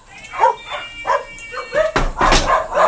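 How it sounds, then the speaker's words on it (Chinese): Several dogs at a golden retriever kennel bark and yip in short bursts, fairly close and loud, with someone talking over them. "不知道你们听到了没有，反正是这边已经听到狗叫了。"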